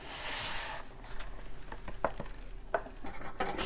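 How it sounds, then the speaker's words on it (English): Dry couscous poured into a pot of just-boiled water with the heat switched off, a brief granular hiss at the start followed by scattered soft taps and clinks of grains and pot, fairly quiet and close. "You pour your couscous in"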